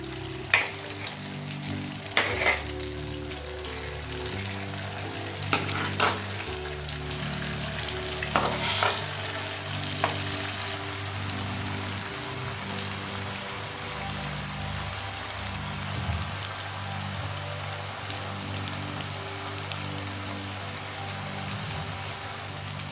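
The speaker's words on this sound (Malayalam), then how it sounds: "നമുക്കതിലേക്ക് നേരത്തെ തയ്യാറാക്കി വെച്ചിരിക്കുന്ന പച്ചക്കറിയുടെ വെജിറ്റബിൾസിൻ്റെ മിക്സ് ചെറിയ ചെറിയ ബൗളുകളാക്കിയത് ഇട്ട് കൊടുക്കാം." Balls of vegetable Manchurian mix deep-fry in hot oil with a steady, rain-like bubbling sizzle, broken by occasional sharp crackles and utensil taps close by.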